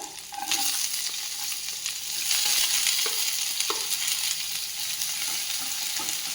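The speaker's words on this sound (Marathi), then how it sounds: "कांदा थोडासा आपल्याला गुलाबीसर रंगावरती व्यवस्थित परतून घ्यायचा आहे" Chopped onion and green chillies sauté in a pan for spicy masala Maggi noodles, a close, steady sizzle broken by several soft spatula clinks and stirs, with no voices.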